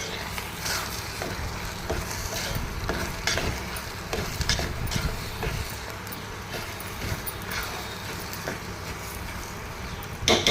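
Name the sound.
stirring chakra pongali with cashews and raisins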